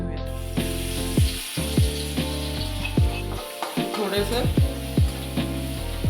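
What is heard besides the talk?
crushed red chili frying in hot oil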